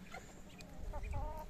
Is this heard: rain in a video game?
no